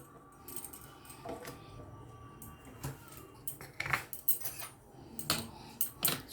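Dry ingredients, including a little ground green cardamom, are stirred together in a bowl for a bread-dessert batter, with a spoon scraping and clinking against the bowl in soft bursts that grow busier toward the end.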